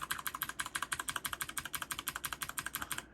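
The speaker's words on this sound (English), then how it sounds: "you're just gonna basically mash the delete button" Someone rapidly and repeatedly presses the delete key on a computer keyboard during startup, a steady run of about thirty crisp, close clicks in three seconds with no talking.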